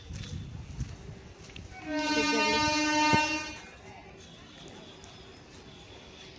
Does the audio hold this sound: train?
yes